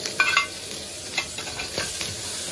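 Scallion, ginger and garlic hit a hot wok for a spinach and glass noodle stir-fry, producing a crackling sizzle with several quick metallic scrapes and clanks of stirring, close and moderately loud, no talk.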